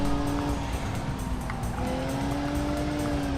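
A supercar engine in the BeamNG driving game revs high and drones steadily throughout, a loud sustained whine with a faintly shifting pitch and no voices.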